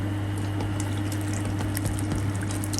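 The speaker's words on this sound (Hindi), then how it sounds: "और साथ ही हम इसमें अब चावल डाल देंगे।" Rice going into a pot of boiling water spiced with cloves and curry leaves for chicken dum biryani, a steady close bubbling hiss and rumble with faint splashes and no talk.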